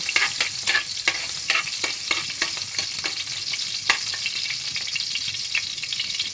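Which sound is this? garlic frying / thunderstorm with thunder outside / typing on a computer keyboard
garlic frying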